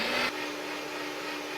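A Nutribullet blender runs at close range, about two feet away, its loud whirring motor roar steady throughout after a brief harsher burst at the start, with no talking.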